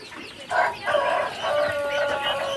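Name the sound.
black australorp rooster crowing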